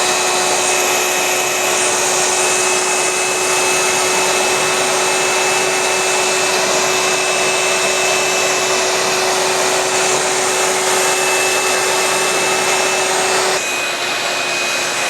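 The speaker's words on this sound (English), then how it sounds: "So just go ahead and vacuum in all the perlite that's required." A vacuum sucks perlite media into a regenerative media filter, running steadily and loudly with a constant high whine and rushing suction noise, unchanging throughout with no voices.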